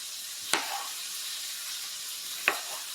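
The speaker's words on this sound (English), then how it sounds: "I flipped over the lamb leg" A lamb leg searing in a hot pan gives a steady, even sizzle, broken by two brief clanks of pan or utensil, and no one speaks.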